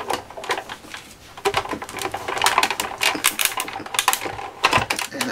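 A die-cutting machine cranks a plate through for paper die cuts, giving a brisk series of clicking, rattling mechanical bursts that rise and fall in irregular clusters, close and fairly loud with no talking.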